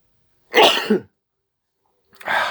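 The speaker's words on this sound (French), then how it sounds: "excusez-moi, je crois que je vais éternuer." Two separate sneezes or sneeze-like bursts from a man, each short and close, the first sharp and full, the second starting after a silent pause and cut off at the end.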